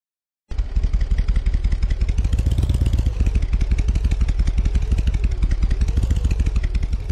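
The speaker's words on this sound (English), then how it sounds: "take this motorcycle and jump it off one of these little ramps here" A motorcycle in the Roblox Bloxburg game revs loudly and continuously, a close, steady buzzing engine drone with rapid rhythmic pulses and slight pitch swells, no talk.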